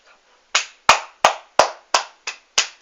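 Seven sharp, separate hand claps, evenly spaced and close, ringing alone with no talk beneath them.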